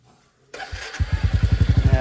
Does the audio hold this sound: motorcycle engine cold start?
yes